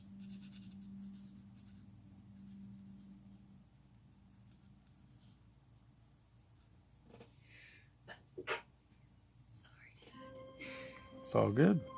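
A single abrupt sneeze bursts out near the end after a stretch of quiet room tone and faint murmuring.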